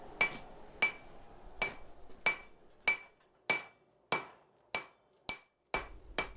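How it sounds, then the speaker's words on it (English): An artisan blacksmith strikes metal with a hammer in a steady rhythm of about eleven sharp, ringing blows, each one decaying fast, loud and close with nothing else heard. "your strength in your arms to control the hammer the way you want to"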